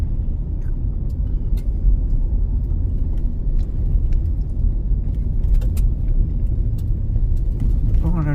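A car cruises along the Florence Kelvin Highway, a historic scenic backroad in Arizona, with a steady, close interior road rumble and tire noise throughout and a voice heard faintly at times.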